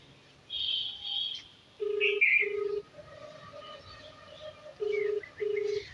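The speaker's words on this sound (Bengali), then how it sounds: "দেখো শোনো রিং হচ্ছে" Ringback tone on an outgoing phone call: short repeated beeps in pairs, moderately loud over faint background chirps and household noise.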